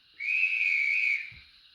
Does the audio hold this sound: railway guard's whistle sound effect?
yes